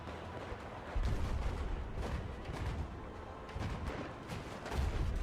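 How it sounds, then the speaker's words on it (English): Gunfire from a large fictional weapon modeled on Doom's BFG, heard in a game as a dense, continuous barrage of heavy booming blasts that rises sharply after the first second and stays loud throughout. "Oh, that was a shot."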